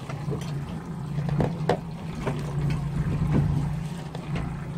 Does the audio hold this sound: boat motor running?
yes